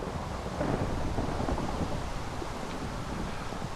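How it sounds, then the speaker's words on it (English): Rain and thunder in the video game Ars Magica II make a steady, dense low rumble with a constant wash of rainfall, loud and unbroken, with no voices over it. "Well, it's raining, we might as well."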